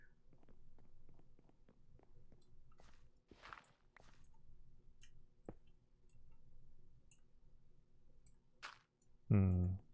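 Mouse buttons click rapidly while shift-clicking items in a modded Minecraft inventory using Tom's Simple Storage, a quiet run of dry ticks with a few brief rustles, ending in a sudden louder thump.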